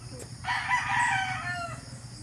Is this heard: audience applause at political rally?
no